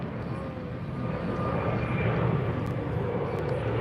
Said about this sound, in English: Flight 1597 headed to Denver. Airbus 321. Neo, I believe.